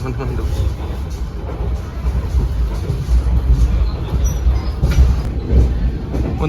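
Aboard a Ciremai passenger train carriage, a heavy, continuous low rumble rolls on with swelling jolts as the coach rattles along the rails.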